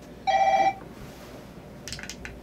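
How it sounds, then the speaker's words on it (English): A single short electronic telephone ring sounds briefly and clearly, followed by quiet room noise and a faint rustle. "Answer your phone, it keeps ringing."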